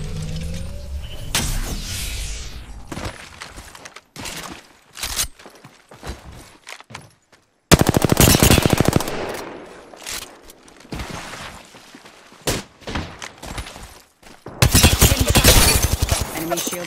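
Video game gunfire strikes the player in loud, scattered bursts of rapid shots, separated by quieter gaps with footsteps and mechanical clicks, while a voice talks over parts of it.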